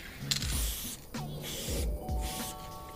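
Low-pressure spray paint can fitted with a fat cap, hissing out in several bursts of roughly half a second each. The sprays are close and fairly loud, with short breaks between them and no talking.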